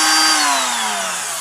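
An older Ryobi rotary tool, freshly fitted with a replacement switch, whines loudly at high speed, its pitch sliding steadily downward as it winds down over about a second and a half.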